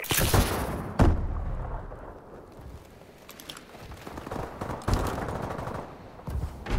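Automatic weapon fire in Call of Duty: Advanced Warfare multiplayer on the Fracture map, sustained rattling bursts with sharp louder shots and booms, fairly close and continuous, no talk.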